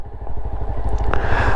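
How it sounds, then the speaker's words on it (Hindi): A motorcycle engine idles loud and close in freezing mountain cold at Auli, its steady rapid clatter rattling unevenly as it struggles. "बाइक खटर खटर खटर खटर कर रही है, तो और अटक भी रही है।"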